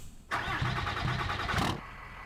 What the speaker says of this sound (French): On va démarrer le véhicule.